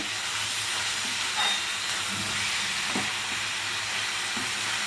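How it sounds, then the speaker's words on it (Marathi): Onions sauté in a pan for egg bhurji, a steady broad hiss of frying with a few soft spatula stirs and scrapes breaking through, close and even throughout, without any speech. "कांदा चांगला परतवून घ्यायचा आहे मऊ होईपर्यंत."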